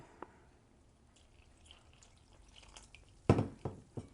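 Faint quiet room tone, then a short splash and trickle of about 3/4 cup of water poured into instant masa, ending with a few small drips.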